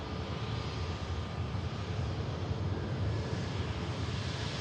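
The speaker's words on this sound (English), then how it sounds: "Steep climb there from the Hainan A330." Hainan Airlines Airbus A330 climbing steeply after takeoff from Manchester Airport, a steady broadband jet engine roar heard from the distance, loud and continuous, with no talking.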